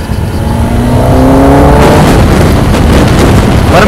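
A Kawasaki ZX10R with its stock exhaust revs hard and close, its loud roar climbing steeply in pitch over a couple of seconds, then holding at a sustained high-rev scream.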